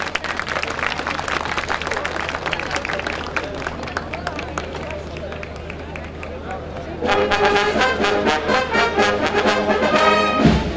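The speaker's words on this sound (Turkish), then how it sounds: "Alkışlarımız bandonuz için tekrar." An outdoor audience claps for the Turkish Land Forces military band at a Sakarya centenary event in Haymana, scattered clapping under a spoken voice that swells into fuller, denser applause toward the end.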